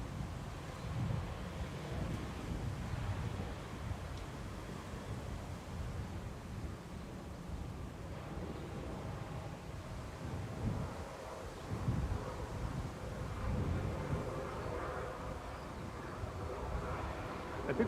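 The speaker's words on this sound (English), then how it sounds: "It'd be quite a warm day without that wind." Wind gusting across an open outdoor spot at Manchester Airport on a warm day, a steady low rumbling buffet on the microphone that swells and eases in waves, with no talk heard.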